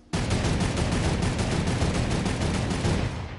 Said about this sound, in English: There's gunfire.